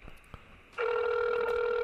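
An outgoing telephone call rings on the line, a steady electronic ring tone that starts abruptly after faint background noise and continues loudly without talk.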